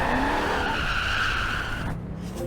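A 1975 Ford Bronco Ranger's tires spin and skid under throttle, a loud sustained squeal over a rough engine drone, fading slightly near the end with no talk.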